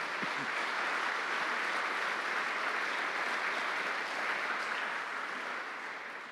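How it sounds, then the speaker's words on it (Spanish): A church congregation applauds in a large, steady burst of clapping that fills the room at full strength before gradually tapering off near the end, with no talking over it. "Dale un aplauso al Señor."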